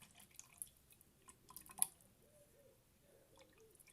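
Liquid pottery glaze pours out of a glazed piece and drips, heard as faint, scattered drips and soft splashes with one sharper drop partway through, alone in a quiet room.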